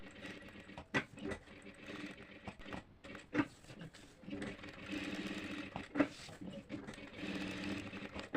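A tailoring sewing machine stitches through paper in quiet, uneven bursts of rapid needle clatter, with scattered clicks and knocks from the mechanism between runs.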